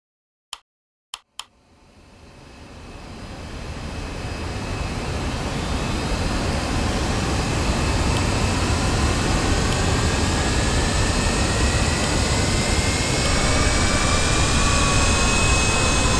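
A Boeing 737 Max 8 in a flight simulator game starts its jet engines: a few sharp clicks, then a rising whine and roar that spool up steadily into a loud, sustained rumble.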